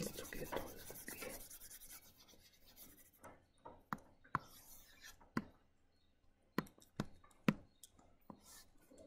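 Marker or chalk strokes on a lecture board while a circuit diagram is sketched: soft scratchy rubbing at first, then a series of sharp, separate taps and short strokes, quiet and close with no talking.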